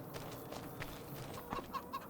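Chickens and a rooster clucking on a video-game farm, soft clucks and short calls scattered through, a few sharper chirps near the end, with no talking.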